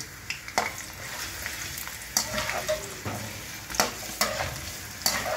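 Cauliflower frying in mustard oil gives a steady close sizzle, broken by several sharp scraping clacks as a utensil stirs the pan, with no talking.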